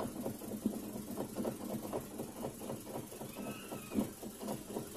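Loose rack and pinion steering on a car rattles in rapid, fairly even knocks over a low running engine. The knocking is quiet and steady throughout.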